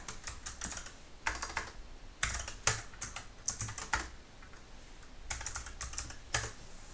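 Bursts of computer keyboard typing while entering programming code, irregular clusters of quick clicks with short pauses, fairly close and alone without speech.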